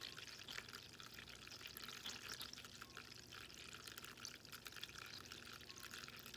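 A pet water fountain runs quietly, a constant soft trickle and pour of filtered water falling back into its basin, faint and steady with no talking.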